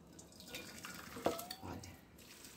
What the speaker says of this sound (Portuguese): Nessa frigideira também, onde fritou a cebola. Vamos passar um pouco de água